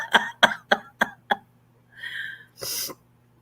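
A run of five quick coughs, then a short rasping vocal sound and a final breathy throat noise, all close and fairly loud against a faint background hum.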